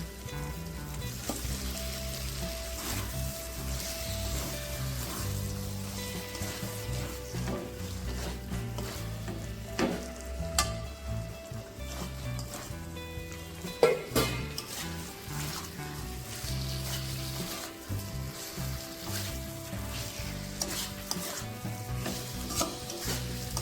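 Marinated chicken sizzles steadily in oily spice paste for chicken dopeyaza while a utensil stirs and scrapes the pan at irregular intervals, close and continuous, with occasional louder knocks and no talking.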